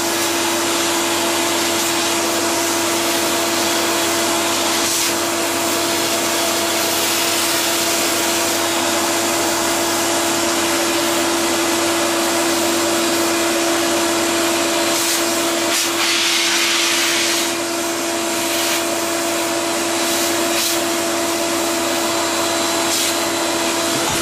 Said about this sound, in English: hoover the bits